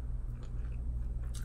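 A big cream-filled Polish wafer is bitten into, giving soft close-up biting and chewing sounds, muffled rather than crunchy.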